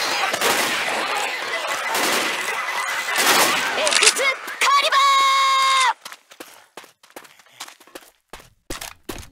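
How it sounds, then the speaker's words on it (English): A big mounted gun in Left 4 Dead 2 fires to break a barricade, a sustained loud burst of blasts amid chaotic game noise and a steady tone, followed by scattered sharp shots and footsteps, with voices talking. "You can fire that big ass gun to break the barricade."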